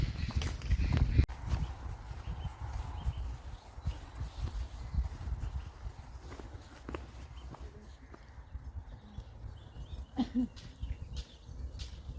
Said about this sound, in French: les moutons qui courent comme ça en troupeau